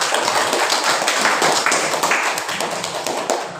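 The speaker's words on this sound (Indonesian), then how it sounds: "Tepuk tangan dulu" A class claps together in a teacher-training lesson, a steady, fairly loud patter of many hands that carries on evenly for several seconds with no one talking.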